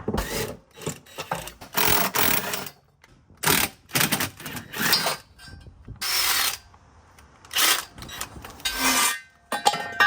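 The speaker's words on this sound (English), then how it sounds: "first thing I'm gonna do is take this transmit down. 13s on the outside, 2 15s in the middle." A ratchet loosening 13 mm and 15 mm bolts to remove the transmission pan on a 2006-10 Dodge Charger with a Mercedes NAG1 transmission, in bursts of rapid clicking separated by short pauses, close and alone.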